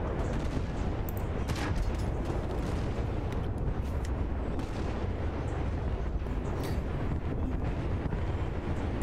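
Heavy, continuous naval gunfire from large warships in War Thunder, a dense barrage of booming shots and explosions rolling without pause for the whole stretch, loud and close with no talking.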